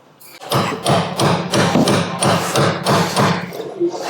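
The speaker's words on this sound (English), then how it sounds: "So I'm just using a big socket to go over that rubber, get it to sit nice and tight on there." A big socket hammered over a rubber suspension bush on a Land Rover Defender 90, eight or so loud, close, evenly spaced metallic thuds and bangs, with no talk.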